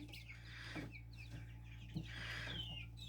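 Soft high peeping of five-day-old yellow turkey poults chirps continuously over a steady low electrical hum, faint and close.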